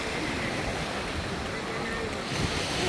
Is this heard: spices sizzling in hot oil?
no